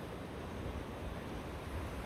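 The Indrawati river flows near its confluence with the Sunkoshi, a steady broadband rush of moving water, faint and continuous with no distinct events or talking.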